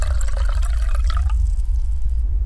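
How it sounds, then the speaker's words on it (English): Spirits poured into a glass in a period 1774 setting, a close liquid trickle and splashing that fill the glass, then taper off into quieter drips. "The magister began to pour the spirits."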